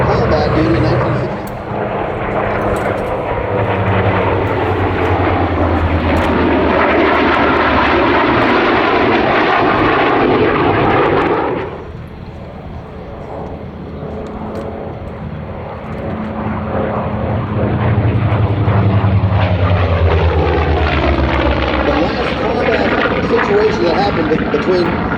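An F-18 Super Hornet and an F4U Corsair flying in formation at an air show, a loud sustained engine roar that dips briefly midway and then swells again with the propeller and jet drone; announcer-style talk may sit underneath.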